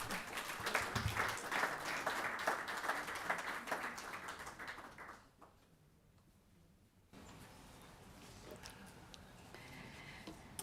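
A crowd applauds steadily, dense clapping that fades out, a brief quiet gap, then lighter scattered clapping resumes.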